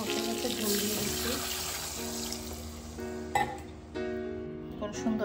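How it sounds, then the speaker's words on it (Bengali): Broth being poured into a pan of spiced egg curry, a steady liquid splash and trickle that runs throughout, with clinking from a utensil partway through. "ঝোল দিয়ে দিচ্ছি"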